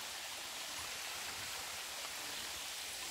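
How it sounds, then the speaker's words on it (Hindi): Waterfall in Palani, Ramgarh, Jharkhand, pouring as a steady, dense rushing hiss that fills the whole stretch without a break, loud and close with no voices over it. "और ये बह रहा है झरना"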